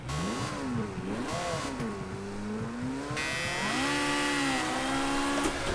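Ferrari F40 supercar in the racing game Project CARS 2, its engine revving and accelerating loudly and continuously, pitch sweeping up and down through gear changes with a steady close-up drone.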